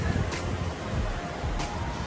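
The Devichi Slezy (Sherlak) waterfall in the Altai mountains, flowing in cold autumn weather, sends out a steady broadband rushing roar, with occasional gusts of wind buffeting the microphone and no voices.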